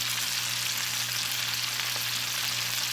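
Crumbled egg fries in a pan with well-sautéed ingredients for a Pudukkottai-style egg dish, a steady, close, loud sizzle that stays even throughout with no voices.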